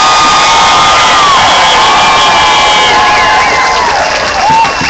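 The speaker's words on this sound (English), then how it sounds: "Like this beautiful crowd in San Francisco." A large crowd at an outdoor street march in San Francisco cheers and whoops continuously, a loud sustained roar of many voices with shouts rising above it throughout.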